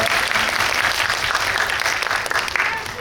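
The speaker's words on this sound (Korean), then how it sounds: "박수 부탁드립니다" An audience at a Korean film talk and Q&A event for Confidential Assignment 2: International at Coex claps, a dense, steady round of applause from a full crowd that carries through without pause.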